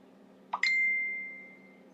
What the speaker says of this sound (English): Sounds like my phone is beeping.